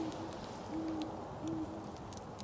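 A great horned owl hoots three times at night beside a river at a late-winter bikepacking camp, low and soft at a distance over a steady background hiss, with no voices.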